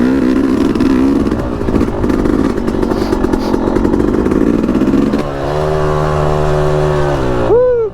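A Yamaha YZ250X two-stroke dirt bike revs loud and close, its buzzy engine climbing and holding high before dropping to a steadier drone and then cutting sharply at the end.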